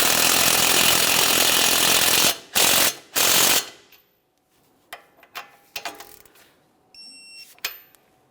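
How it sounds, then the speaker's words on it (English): Wrench tightening the tie rod mounting nut on a 2014-2018 Mazda 3 front end, heard as close, sharp ratcheting clicks in short uneven bursts after a loud burst of broadband noise. "Now we'll tighten that mounting nut and torque it to 43 foot-pounds."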